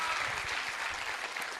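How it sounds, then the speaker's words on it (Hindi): An audience at an Amway business meeting applauds for Sangeeta, a soft, dense, even wash of clapping heard from a distance for a brief moment. "जोरदार तालियां संगीता के लिए।"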